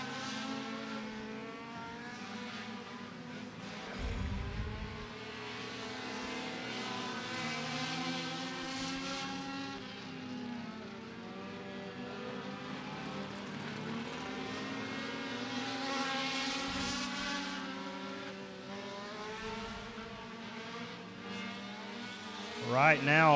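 Compact race cars circle the track at Beckley Motor Speedway during SCDRA Compact Clash qualifying, a steady multi-engine drone with rising and falling pitch throughout, while an announcer talks over it.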